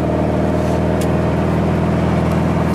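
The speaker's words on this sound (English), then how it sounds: "But you know how loud exhaust is." A Volkswagen with a large exhaust drones loudly and steadily, a constant deep engine rumble close by with no speech over it.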